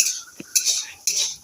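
Fried potato pieces being lifted out of a pan for a green tomato dish, with three sharp metal scrapes and clinks of a utensil against the pan at a steady interval, close and fairly loud.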